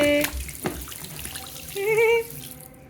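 Tap water runs during a baby's bath at home, a steady close wash of splashing with a brief high tonal cry-like sound partway through before it cuts off.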